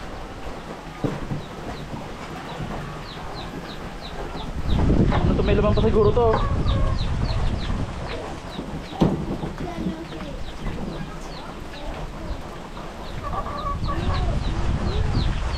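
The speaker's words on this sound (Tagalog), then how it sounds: "yung manok mga kabayan, isa-isa nang nag-aakyatan sa tulugan nila" Farm chickens cluck one by one as they climb up to their roost, a soft scattered chatter that swells briefly midway, with someone talking over it.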